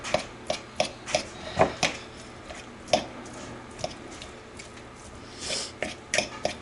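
A fork shreds cubes of home-canned meat in a dish, giving irregular scraping and tapping strokes close by, some sharp clinks of metal on the dish, with no talking.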